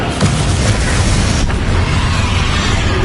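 A heavy, booming spell impact from Descendo in Hogwarts Legacy, a loud, sustained rumbling blast that stays dense throughout with a sharper crack in the middle, no voices.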